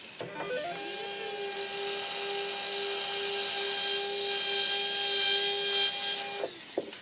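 A high-pitched dental implant pilot drill, 1.2 millimeter, whines steadily for several seconds while boring into upper jaw bone, close and continuous, with a grinding, rubbing edge, then stops.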